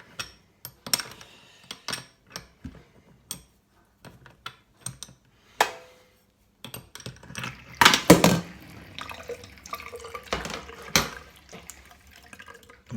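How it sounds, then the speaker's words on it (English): Water trickles and dribbles from the neck of a dripping Franke Ascona tap with a ceramic cartridge, in irregular bursts with scattered drips and clicks, growing splashier toward the middle, close by with no voices. "that's just the water coming out the neck of the tap and dribbling down"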